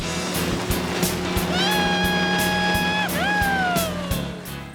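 A steady boat engine drone rumbles throughout over rushing water, with a brief rising whine partway through; no one speaks.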